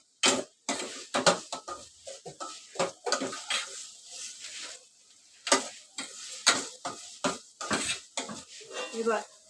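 A spoon scrapes and clatters in a pan as spice masala is stirred into soybean bhurji, with irregular sharp metallic knocks and a soft frying sizzle beneath, and a voice talks between the strokes.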